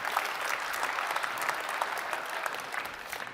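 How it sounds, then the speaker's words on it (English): Audience applause at a technology talk event, a dense steady clatter of many hands clapping throughout, loud and sustained with no voices standing out. "So, round of applause for you all."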